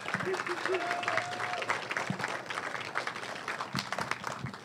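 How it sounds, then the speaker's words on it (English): A crowd applauds speakers at a political kickoff event in a downtown Phoenix brewery, dense steady clapping filling the room with voices talking over it. "Just a big round of applause for the seven speakers that are about to come."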